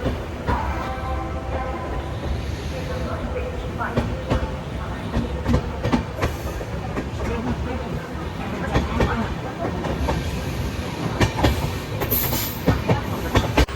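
The Amrit Bharat Express, just pulling out of a station on its Malda to Lucknow run, rumbles steadily on the rails with repeated wheel clacks and occasional squeals, loud and continuous from on board.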